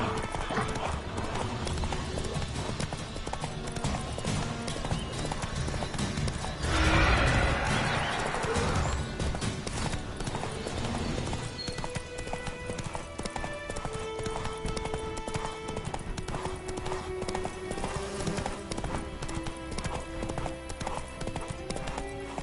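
Horse galloping in The Witcher video game, rapid rhythmic hoofbeats running throughout with a loud neigh partway through, amid game music and ambient sound.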